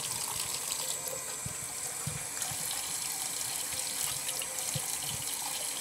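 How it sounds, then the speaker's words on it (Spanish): Tap water runs steadily from a faucet as a dirty makeup brush is scrubbed in circles beneath it, a continuous moderately faint splashing stream with no talk over it. "Y sigue saliendo el agua sucia."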